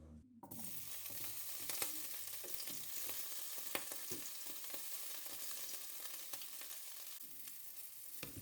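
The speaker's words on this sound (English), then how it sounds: "Add the sliced garlic to the pan with the remaining meat juices." Sliced garlic frying in leftover meat juices in a pan, a quiet, even sizzle after a brief clatter at the start, with scattered pops and small stirring sounds, no speech.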